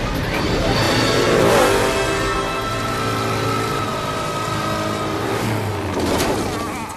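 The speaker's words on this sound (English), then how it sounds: "The motorcycle gang took off like wild horses, while Bert remained at the starting line." Motorcycles taking off together at the start of a race, loud, dense engine revving that swells and holds, then rises again near the end.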